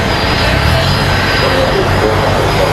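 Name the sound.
airplane at the gate at Raleigh Durham airport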